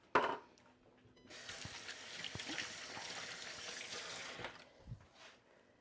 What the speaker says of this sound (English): I'm just going to rinse my hands because it's easier if your hands are a little bit moist for this